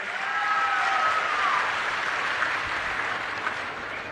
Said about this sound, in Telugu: మంచి ప్రభుత్వం అయితే గట్టిగా చప్పట్లు కూడా చెప్పండి బాగా చేశారని